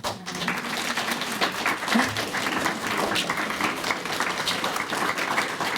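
An audience gives a round of applause at a presentation, dense sustained clapping from a crowd filling the whole stretch at moderate level.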